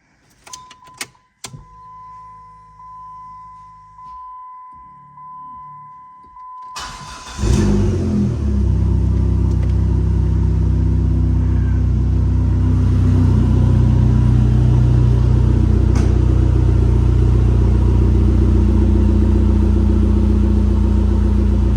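A 2005 Dodge SRT-4 ACR engine cranks briefly, then catches and starts, settling into a loud, steady rumbling idle with slight revving that holds close by to the end.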